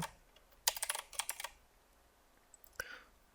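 A quick run of light, crisp plastic clicks, then a pause and a couple more isolated clicks close by in a quiet room.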